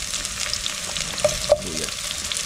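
Garlic sizzles and crackles steadily in a hot pan, with a couple of soft stirring clicks, close by and without any talking.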